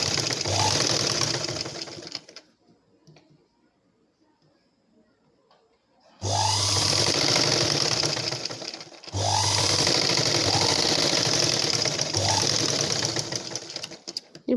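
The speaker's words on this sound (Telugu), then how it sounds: "ఇప్పుడు కింద డాట్ ఎప్పుడు కూడా మనం కోన్ షేప్లో మడత పెట్టుకొని మనం స్టిచ్చింగ్ చేసుకోవాలి." Sewing machine running in bursts while stitching a dart on a blouse, a loud rapid mechanical whir close by with a long pause between the first run and two later runs.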